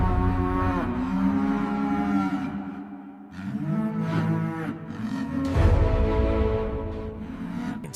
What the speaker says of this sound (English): A large herd of fully horned white Brahman bulls fills the spacious enclosure.